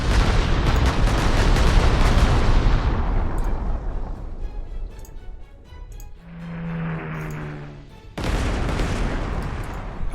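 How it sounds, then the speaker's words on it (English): An anti-tank gun destroyed in the strategy game Panzer Corps 2: a heavy, loud blast rumbles and fades over several seconds, a brief tonal effect follows, then another burst of noise cuts in. "there goes the anti-tank gun"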